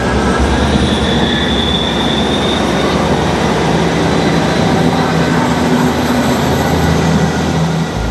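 A loud, steady rumble of a London train arriving at a station, with a faint metallic wheel squeal riding over the continuous noise.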